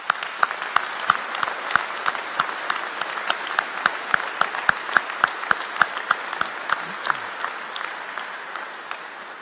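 Graduation ceremony audience at Lincoln College gives steady applause, a dense wash of clapping with sharp rhythmic claps standing out about twice a second, easing off slightly near the end.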